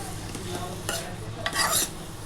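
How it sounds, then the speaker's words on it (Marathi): Knol-khol and potato pieces stir-fried in oil and masala. A close, brisk sizzle is punctuated by a few quick scraping stirs, the last one longer and louder. "चांगले तेलामध्ये मसाल्यामध्ये चांगले परतून घ्यायचे"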